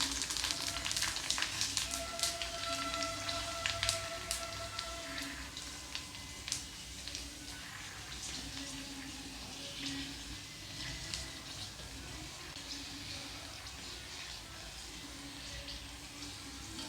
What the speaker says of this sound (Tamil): இப்போ எண்ணெயும் வந்து சுட்டுருச்சு, இப்போ நம்ம பொரிச்சு எடுத்துடலாம்